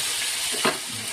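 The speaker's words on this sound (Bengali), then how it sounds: "জল দেবো, জলটা বুলবুলে হচ্ছে" A splash of water hisses and bubbles in a hot pan on a gas stove while aloo kulcha is being made, a steady close sizzle with a brief louder burst near the middle.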